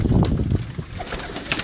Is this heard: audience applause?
no